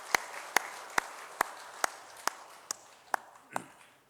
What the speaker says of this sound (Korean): 박수 치겠습니다